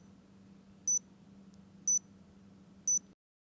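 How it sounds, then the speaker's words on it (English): An insulin patch pump on a Nano A8 system gives three short, clean electronic beeps about a second apart, loud and alone over a faint low hum, and the clip cuts off before any fourth beep. "The patch pump will beep 4 times."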